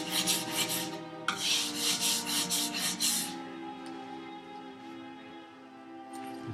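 Steel plane iron honed by hand on a sharpening stone during a workbench build: a steady back-and-forth scraping rub, rapid strokes near and loud for about three seconds, then a quieter, slower grinding with a faint ringing hum beneath.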